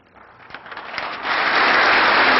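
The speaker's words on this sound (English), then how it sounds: "That line met with lots of applause and support from many mayors" Applause from an audience of mayors and officials at a state of the state address, starting as scattered claps and swelling into loud, dense, sustained clapping across the hall.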